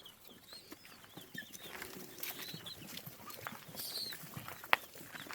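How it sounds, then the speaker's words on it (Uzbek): Pheasant chicks on a pheasant farm in Fergana, Uzbekistan, giving faint, scattered high peeps and chirps at a distance, with soft rustling and no voices. "Jo'jalarimiz."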